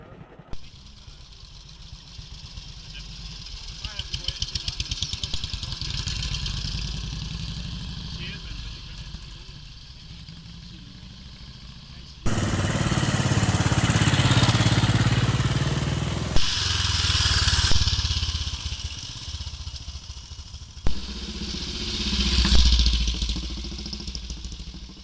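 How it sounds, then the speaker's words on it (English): An old motorcycle engine at a ride-an-old-bike event runs smoothly, its steady idle and revving rising and falling in bursts, with people talking nearby. "It's such a smooth running wee engine."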